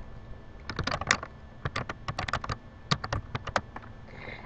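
A computer keyboard is being typed on, with a message entered in quick bursts of crisp, close key clicks separated by short pauses.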